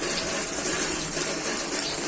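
Storm floodwater rushes steadily through Morbi after heavy rain, a dense, continuous broadband wash of flowing water with no pauses, fairly loud and close, with no voices.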